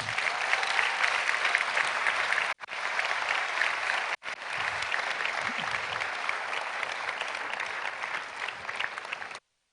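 Audience applause at a forum after a presentation on the African Continental Free Trade Area, a sustained, even burst of clapping from a large crowd lasting nearly ten seconds with two brief cutouts.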